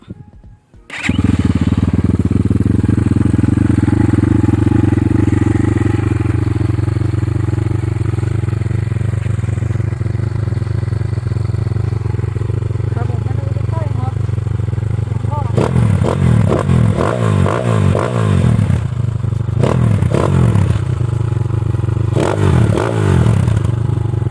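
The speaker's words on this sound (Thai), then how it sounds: "ลองฟังเสียงดูนะครับ สตาร์ทอยู่ตรงนี้นะครับ" A 250cc four-stroke motorcycle engine (Hengjian HJ250) idling steadily and loudly up close after a brief start, with rattling, clattering bursts of revving later on.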